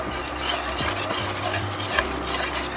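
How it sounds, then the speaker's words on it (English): A spoon stirs a chili powder roux in a pan, a steady close scraping and soft bubbling sizzle with a few distinct stroke sounds, no talking. "Constantly stirring it."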